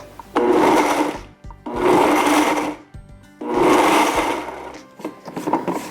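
A blender whirs in three short pulses while blending a roasted red pepper and eggplant dip, each a loud burst lasting about a second, separated by brief pauses.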